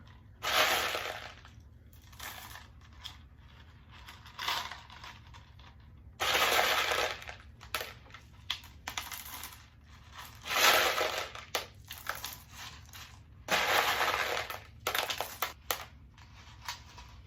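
Clay pebbles (LECA) pour and rattle into a plastic cup in several loud, bright bursts separated by short pauses, the hard little balls clattering close by with no voices.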